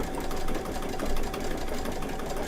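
A Brother Luminaire XP2 embroidery machine stitches a couching design, giving a steady, close mechanical whir with fast regular needle clatter that runs on evenly without a break.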